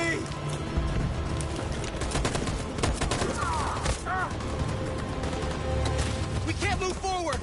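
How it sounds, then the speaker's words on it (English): Machine gun fire in the war video game Detroit, rapid rattling bursts with scattered crackling shots under shouted voices, sustained through the scene. "That machine gun is taking down everything that moves!"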